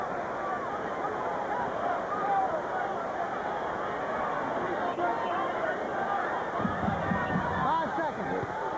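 Steady hubbub of a boxing arena crowd on its feet at the Hopkins vs Tarver fight, watching fist fights break out in the stands, a broad murmur of many voices running continuously under commentary.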